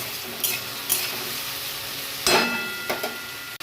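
Finely sliced taro drops into onions frying with turmeric, and a spoon stirs it through. Short scraping and clattering bursts sit over a low, continuous sizzle.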